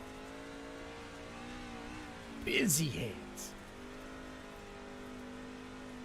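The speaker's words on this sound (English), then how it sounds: "We can hear him light up the throttle just a little bit on corner entry." A race truck's engine at Eldora dirt track, a steady droning hum that lifts briefly as the throttle is lightly applied on corner entry, with someone speaking over it for a moment.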